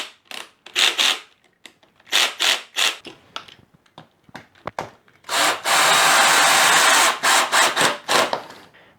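A drill drives a screw into plywood with a clutch set too stiff for the soft sheet: short bursts of whirring and wood scraping, then a long, loud continuous grind, close by with no talking.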